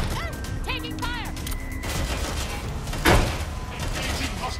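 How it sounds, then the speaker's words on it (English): Gunfire in Watch Dogs Legion comes as scattered shots mixed with chirpy electronic game sounds, one loud burst standing out near the end, with talk and effects around it. "Suspect has opened fire."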